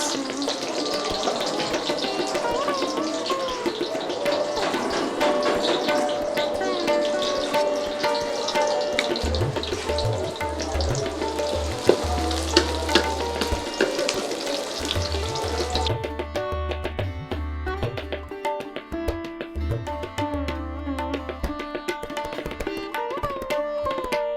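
Onions frying with beef head meat in a pan, a steady close sizzle broken by stirring clatter and low bumps, with no talk over it.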